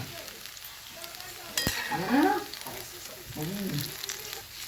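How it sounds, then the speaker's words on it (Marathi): Bhaji fritters deep-frying in hot oil, giving a steady close sizzle with a brief sharp clatter and bubbling swell as pieces are flipped. "बघा खालीवर पलटी मारून चांगलं तळून घेऊया भाजी बघा छान तळायला लागली आता भजी"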